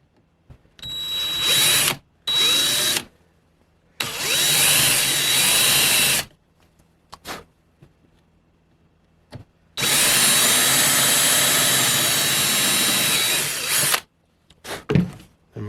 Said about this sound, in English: I am not going to hold this while I drill it.